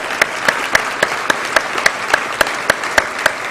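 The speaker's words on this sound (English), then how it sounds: "I think we should clap for that" An audience at an award luncheon claps in a steady, evenly spaced rhythm, each sharp clap standing out over a hum of room noise, loud and close for a few seconds.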